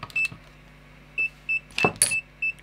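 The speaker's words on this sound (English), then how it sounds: "hear them beeping, that's it, they are bound" A series of short high electronic beeps as an iFlight ProTek25 HD drone binds to its goggles, in a steady rhythm, close by, with a couple of brief clicks and rustles between them.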